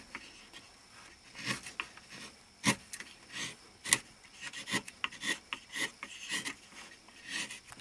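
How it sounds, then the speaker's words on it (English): A firmer chisel paring wood from the bowl of a hand-carved wooden love spoon gives a series of short, close rasping scrapes and shaving strokes in an irregular rhythm, with no talking. "You can work quite fast with the firmer chisel, nice sharp tools, comes away."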